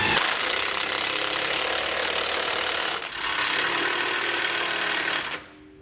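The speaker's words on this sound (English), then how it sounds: "use that same 15mm socket for the bolts on the back on our shackle mounts." A socket tool drives the 15mm bolts of a front anti-sway bar's shackle mounts on a 2014 Forest River Lexington, making a loud, close, continuous buzzing rattle with one short break before it stops abruptly.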